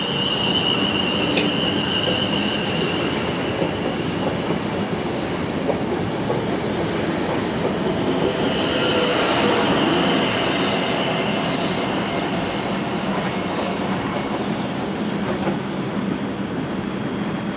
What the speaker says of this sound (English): we got a train to Poole which is leaving